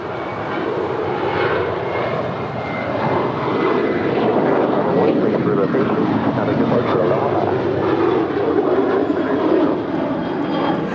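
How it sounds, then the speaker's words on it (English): Jet engines of a five-year-old Sun Country Airlines Boeing 737-800 thunder loud and near as it departs LAX, a broad sustained roar lasting throughout with some talk faintly beneath. "That is Sun Country Airlines 8501 departing to Kailua, Kona. It's a 5-year-old 737-800."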